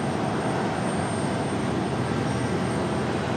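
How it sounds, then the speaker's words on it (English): Republic Airways American Eagle jet departing Raleigh-Durham International Airport, a steady broadband engine roar holding loud and unbroken throughout, with no voices. "That last departure, American Eagle. Republic Airways 4497 off to LaGuardia."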